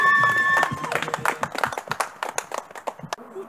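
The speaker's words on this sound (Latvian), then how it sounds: "Aplausi Artim!" Audience clapping at a winter street workout event in Tukums, a brief burst of scattered applause that thins out over a few seconds.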